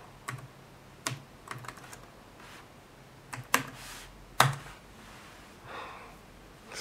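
Typing on a YEPO 737S 13.3-inch laptop keyboard, sparse single key taps and a few sharper clacks spaced irregularly, quiet and close, with faint breathing between them.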